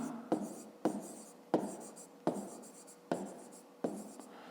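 A pen writes an answer in a school notebook during a fifth-grade math lesson, making quiet, close, rhythmic scratching strokes, about seven short bursts each starting with a soft tap.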